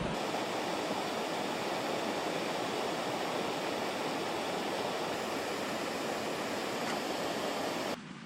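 Small waterfall in Algonquin Park gives a steady, loud broadband rush of falling water, continuous and close, cutting off abruptly near the end.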